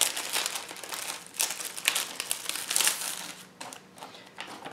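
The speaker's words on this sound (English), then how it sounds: "These are flock letter transfers. So we're going to go ahead and open these up." Iron-on flock letter transfers pulled from their plastic packaging, giving steady crinkling and crumpling with sharper crackly bursts, fairly close and moderately loud, no talking.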